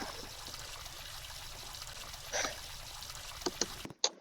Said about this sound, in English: Then let us shower.